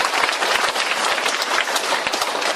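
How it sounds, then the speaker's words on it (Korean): Audience at a humanities forum applauding two performers after a traditional music and singing performance, a dense, steady burst of clapping filling the room without pause. "두 분께 다시 한번 큰 박수 부탁드립니다."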